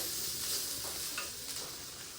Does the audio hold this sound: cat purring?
no